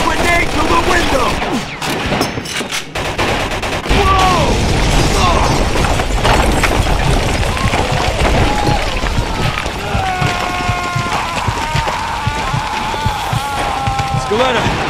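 Machine gun fire in the video game Mafia 2 rattles in dense, loud bursts mixed with impacts and booms, while several voices shout over the shooting throughout.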